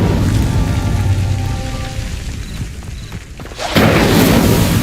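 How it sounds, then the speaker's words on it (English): Incendio fire spell setting a pyre alight in the Hogwarts Legacy video game, a steady crackling, rushing roar of flames that thins out, then surges back loud and bright near the end. "Incendio. The flames make the pyre sink."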